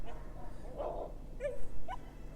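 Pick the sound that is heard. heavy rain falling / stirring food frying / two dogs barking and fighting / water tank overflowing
two dogs barking and fighting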